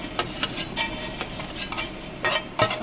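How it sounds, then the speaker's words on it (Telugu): Mustard seeds hit hot oil in a pan, set over a low flame for a curry leaf pickle. A steady sizzle holds throughout, broken by sharp crackling pops at irregular intervals, close and fairly loud, with no talking. "ఇప్పుడు ఒక స్పూను ఆవాలు వేద్దాం"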